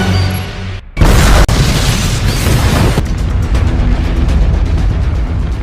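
A huge explosion in a Daniel Craig James Bond action film: after a brief hush, a sudden loud boom bursts out and rolls into a sustained roar of debris and rumble that carries on for several seconds.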